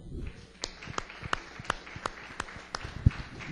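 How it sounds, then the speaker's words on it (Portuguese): Faint, evenly spaced claps in a church service, a steady beat of single sharp hand strikes with a quieter room murmur beneath. "Palmas a Deus que nos revela."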